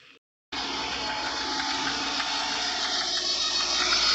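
A Hyundai i10 Grand engine with a misfire idles close up, a steady loud mechanical whir and hum that starts abruptly after a short gap and holds evenly to the end.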